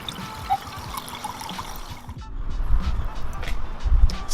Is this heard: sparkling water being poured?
yes